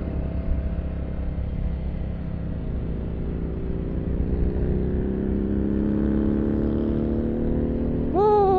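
Keeway Benda Napoleon 500 motorcycle on a test ride, a steady engine drone that rises slowly in pitch as it gains speed, with a brief sharper rev at the very end and no speech.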